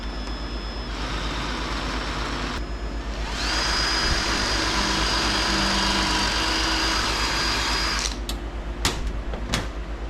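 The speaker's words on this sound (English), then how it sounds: "I got to drill out these rivets so we can drop this sign down." A power drill grinds through rivets on a Yamaha G2 golf cart to free a sign, a steady close whine holding for several seconds before stopping with a few short clicks and knocks.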